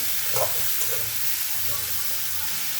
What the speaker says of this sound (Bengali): আলু আর বেগুনগুলো পেঁয়াজের সাথে ভেজে নিব।